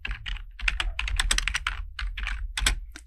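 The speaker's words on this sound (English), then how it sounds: "we're going to type in equals" Rapid keystrokes on a computer keyboard while entering a formula into business intelligence reporting software, a dense irregular clatter of clicks running steadily and close by, with no voices.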